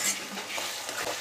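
Curry frying in oil in a pan, giving a steady, soft sizzle with faint stirring scrapes that runs through the brief moment at moderate level with no talk.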